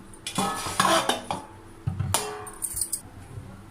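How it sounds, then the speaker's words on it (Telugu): Soaked flattened rice (poha) being strained through a sieve in a home kitchen, with clinks and scrapes of metal utensils in irregular bursts, close and moderately loud, no talking. "2 నిమిషాల తర్వాత ఇలా జల్లెట్లో వడపోసుకొని పెట్టుకోవాలండి."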